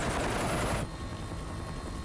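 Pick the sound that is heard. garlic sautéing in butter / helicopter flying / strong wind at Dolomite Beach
helicopter flying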